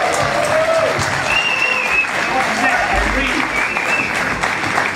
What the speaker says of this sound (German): Ihr dürft gerne mal ganz laut klatschen